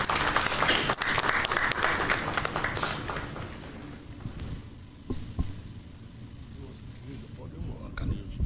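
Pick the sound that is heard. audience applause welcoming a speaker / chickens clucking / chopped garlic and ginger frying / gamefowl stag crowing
audience applause welcoming a speaker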